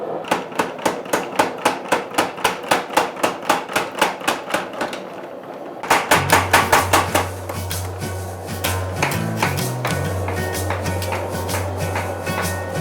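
A blacksmith hammers steel to draw out a knife blank, with steady, evenly spaced ringing blows close by, a short pause, then a faster run of strikes over a low, steady hum.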